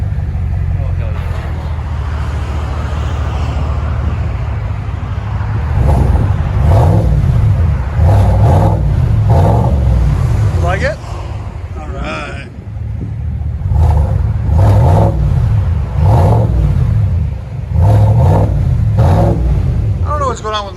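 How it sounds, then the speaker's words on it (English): A 2019 GMC Sierra Denali pickup with a 6.2L V8 and Flowmaster Flow FX dual exhaust revs repeatedly in loud, close bursts over a steady idle rumble, with brief spoken remarks in between. "There it is, FlowFX. GMC Denali. Oh, much better."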